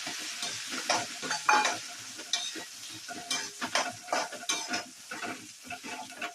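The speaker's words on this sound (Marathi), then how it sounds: "तेलात आता छान फ्राय करून घेऊया." Ground spice paste with asafoetida and turmeric frying in hot oil for a Punjabi samosa filling, a loud close sizzle broken by scraping stirs and clinks of a spoon against the pan, no talking.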